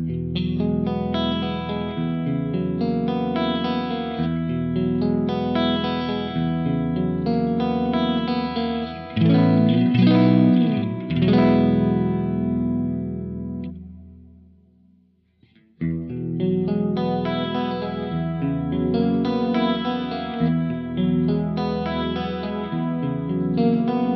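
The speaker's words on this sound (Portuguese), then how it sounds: "começar pelo chorus, que você pode acionar o chorus pelo B ou desligar aqui" Electric guitar through a Quad Cortex processor, a melodic phrase played dry, then a swirling noisy burst, a fade to silence, and the phrase returning with a chorus effect, loud and alone.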